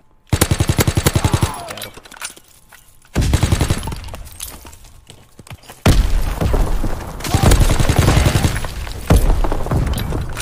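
Automatic gunfire in Call of Duty WW2 sounds loud and close in rapid rhythmic bursts, with a brief pause and then renewed sustained volleys of shots, while a player speaks briefly between them.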